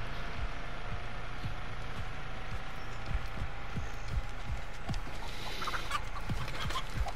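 A chicken clucks in short, intermittent bursts at moderate distance over a faint steady background, with no one speaking.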